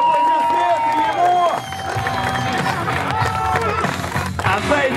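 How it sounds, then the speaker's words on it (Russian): A crowd applauds and cheers for the winner of a street fighting match, loud and continuous, mixed with music and voices. "Ваши аплодисменты ему!"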